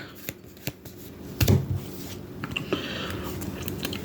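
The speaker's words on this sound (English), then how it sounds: "Sorry, cards are sticking to the mat." Trading cards are handled on a play mat: scattered light taps and soft slides, with one brief shuffling burst in the middle, close and quiet.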